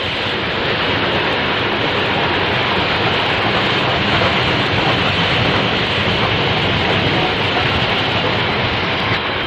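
New York Central locomotive 2886 hauls a train of coal hoppers toward Greensburg, a steady, loud, dense rumble and roar of rolling cars that holds without a break and carries no voices.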